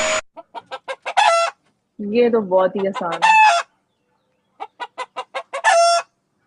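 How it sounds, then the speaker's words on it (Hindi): Chickens cluck in quick, sharp bursts that rise into drawn-out squawks, heard in two close, clear runs at the start and end, with someone speaking briefly in between. "चिकन।"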